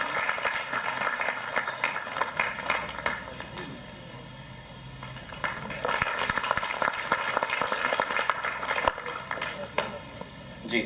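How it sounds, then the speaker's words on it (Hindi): Applause from the audience at a GST seminar held by Chandigarh Beopar Mandal, many hands clapping loudly, dipping briefly midway before swelling again, with some chatter underneath. "तो तालियों के साथ इनका भी अभिनंदन"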